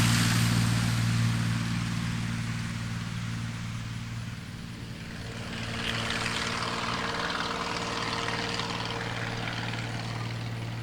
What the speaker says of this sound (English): That's the guy who owned the fire truck, just casually took off in his plane.